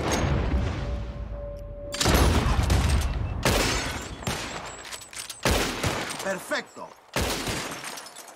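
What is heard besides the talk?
gunshots shooting bottles, from the video game Red Dead Redemption 2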